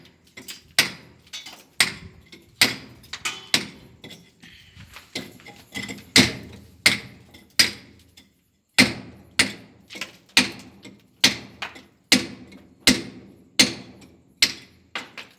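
Bricks being hammered and chipped during main-line chipping work in Karimnagar, a steady series of sharp, loud metallic strikes at a roughly regular pace, with one brief pause midway.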